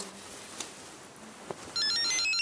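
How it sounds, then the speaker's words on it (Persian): A phone's electronic ringtone starts partway through and repeats as a steady melodic chirping, loud and close in a quiet home, after a couple of faint knocks. "گوشیم داره زنگ میخوره"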